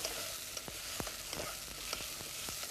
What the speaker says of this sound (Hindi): इस प्याज को हम थोड़ा मिक्स कर देते हैं ताकि ये जले नहीं